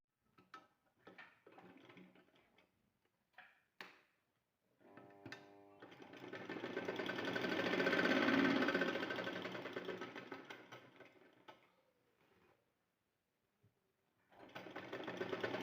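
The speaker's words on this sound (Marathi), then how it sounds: "तर याला मी आता शिलाई मारून घेते." A household sewing machine stitches along the edge of a fabric shoe rack made from an old dupatta, first in short stop-start bursts, then a long steady whirring run that swells and fades, and a final burst starting up again.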